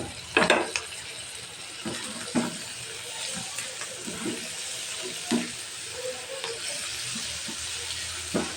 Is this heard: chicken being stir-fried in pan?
yes